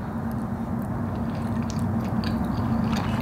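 Close chewing and biting on food during a cheat-day eating session with donuts, cheesecake, nachos and mozzarella sticks, a steady moist crunch and mastication right up near the mouth with no talking.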